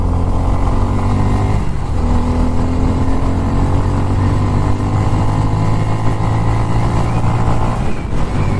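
Bajaj Pulsar F250 motorcycle engine revving on an uphill slope, a loud close engine drone that climbs steadily in pitch with a gear change near two seconds and another near eight, no talking.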